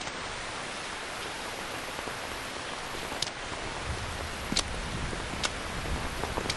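Steady rain falls in Metal Gear Solid 3: Snake Eater as a dense, even hiss, with a few faint sharp drips or ticks scattered through it.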